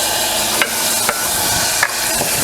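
Two cloves of garlic and a teaspoon of cumin fry in a pan with a steady, close sizzle. Three light stirring scrapes come at uneven intervals, and no one talks.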